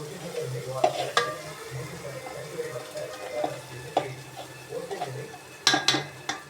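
A spoon stirs a frying dish in a pan to keep it from sticking, giving soft scraping strokes and occasional clinks over a continuous low sizzle, close and fairly quiet.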